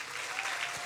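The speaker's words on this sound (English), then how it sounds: "So what would a stage 4 applause sound like?" A brief burst of dense audience applause at a science slam event, steady and full, with no single claps standing out.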